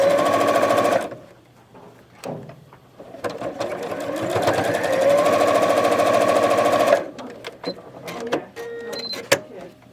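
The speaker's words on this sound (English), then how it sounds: "I'm going to sew that." Domestic sewing machine stitching a quilt block seam: a loud, close whirring burst of rapid needle strokes, then a longer steady run after a pause, with clicks and handling noises around it.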